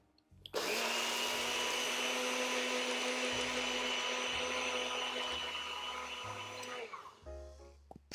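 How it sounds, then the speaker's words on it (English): A NutriBullet blender grinds rolled oats into flour, one steady loud whirring roar lasting about six seconds before it winds down, with faint knocks underneath. "So I'm just going to put this in my little NutriBullet and we're going to make flour."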